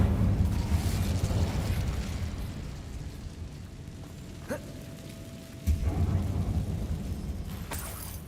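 In Hogwarts Legacy, an Incendio fire spell roars in a rumbling, crackling burst of flame that fades, followed by a sharp pop and a second surge of roaring fire.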